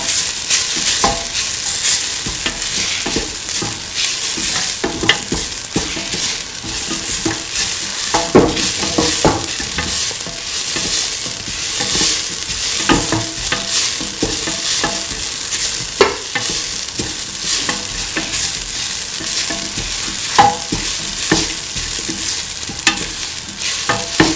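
A coconut spice mixture is stirred in a frying pan for a potato and green pea stew, with a steady close sizzle and repeated scraping clicks of the spoon throughout, and no talking.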